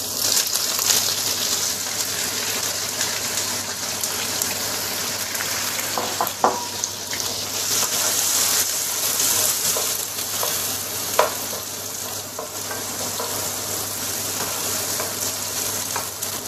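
Onions fry in hot oil for bhindi masala, a bright, constant sizzle close up, with occasional stirring clinks and scrapes in the pan and no talking.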